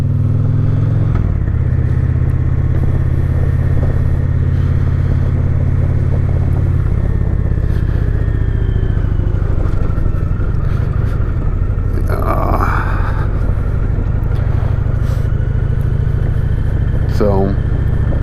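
A Victory Cross Country motorcycle engine droning steadily while riding on the road, loud and continuous with wind rush and some passing traffic, and no talking.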